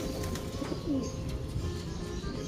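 Pigeons cooing in soft low repeated calls over a steady background hiss, with no one speaking.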